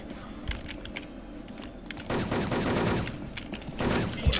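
Gunfire in the online shooter Wolfteam: scattered single shots early, then dense automatic bursts from about two seconds on, sharp and fairly close, with a last loud crack at the end.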